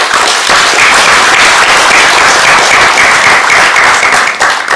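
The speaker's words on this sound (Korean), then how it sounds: "다시 한번 우리 이인호 교수님한테 박수." Loud, dense applause from a forum audience honouring a professor at a national debate event, a steady roar of many hands clapping throughout with no talk over it.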